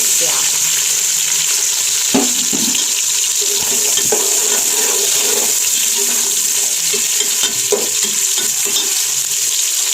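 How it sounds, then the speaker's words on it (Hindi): Onions frying in hot ghee for a fish salan, a steady, loud, close sizzle and hiss that runs the whole time, with a few soft clicks and bumps from the pan and no talking. "घी डाल दिया इसमें और रख दिया हमने गर्म होने के लिए। और ऑलमोस्ट ये गर्म हो चुका है।"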